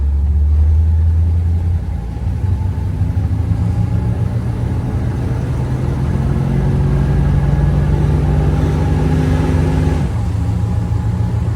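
A 1986 Monte Carlo SS V8 pulls in first gear, a loud, steady low engine drone with rising harmonics as it holds the gear, then a brief dip near the end, heard up close from inside the car.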